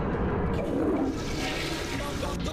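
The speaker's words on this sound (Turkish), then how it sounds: "Lan onun sifonu nasıl çekildi?" A cartoon toilet flushes in an animation, a steady rushing, gurgling swirl of water that stays fairly loud for a couple of seconds and then eases slightly.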